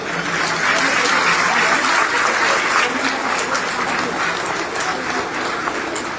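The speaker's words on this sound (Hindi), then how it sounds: "एक बार तालियां हो जाए जिसको कुर्सी नहीं मिली" A packed ceremony hall at a DXN recognition event bursts into loud, continuous applause, a thick even roar of many hands clapping at once for the full length.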